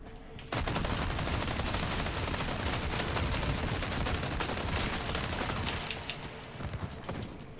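The Chicago Sweeper submachine gun in the game Resident Evil 4 fires a long, dense automatic burst, a rapid, loud stream of shots lasting several seconds before tapering off, with no talk over it.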